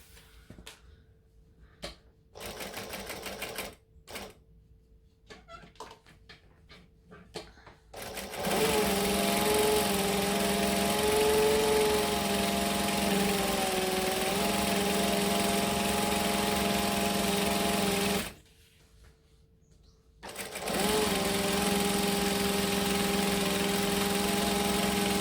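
A sewing machine stitches fabric, first in a few short stop-start bursts, then in a long steady whir with a pitch that drifts slightly. It pauses briefly and then resumes its steady running, close by and with no talking.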